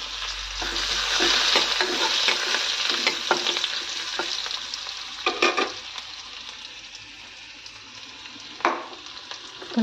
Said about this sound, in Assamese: এইফালে কেৰাহী গৰম হৈ গ'ল দি দিলোঁ ইয়াতে পিঁয়াজ জলকীয়াখিনি দি দিছোঁ